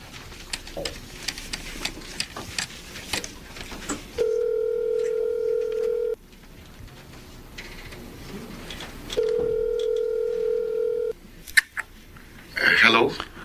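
A telephone dial tone plays in two steady electronic stretches, each about two seconds long, with dialing beeps after them and spoken voices in between.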